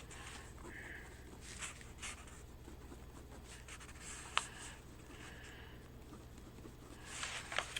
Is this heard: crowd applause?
no